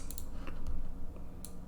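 A computer mouse clicks a handful of times while a level editor is in use: sparse, sharp little ticks, fairly quiet, over a low background rumble, with no talking.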